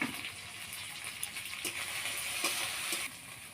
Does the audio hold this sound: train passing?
no